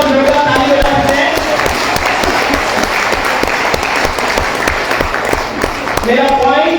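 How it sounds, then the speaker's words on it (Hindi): Loud, sustained applause from a large audience at a leadership training session, dense and continuous throughout, with a voice briefly heard over the clapping near the start and end. "तो अपने लिए एक बार जोरदार ताली बजा सकते हैं।"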